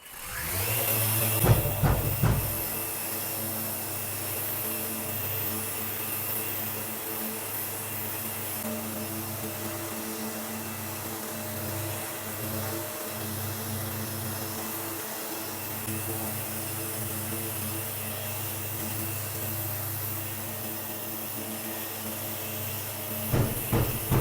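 A long-reach drywall sander whirs steadily for a long stretch with a constant droning hiss, a few knocks at the start and end.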